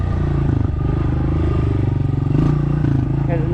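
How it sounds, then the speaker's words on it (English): A dirt bike engine pops and rattles up close as the rider pulls a quick wheelie, its choppy, pulsing note steady and loud with a brief rise in revs midway. "Here's another quick wheelie."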